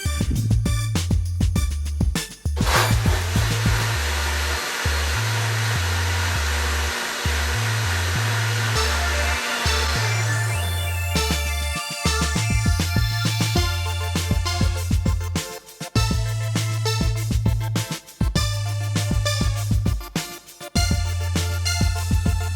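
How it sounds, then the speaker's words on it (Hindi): An electric grinder whirs steadily and loudly as it blends ice into a mango milkshake, with the low motor drone rising and dipping as the ice breaks up, close, with no one talking. "अब हम इसमें आइस शामिल करेंगे और एक बार फिर से ग्राइंडर का बटन ऑन कर देंगे।"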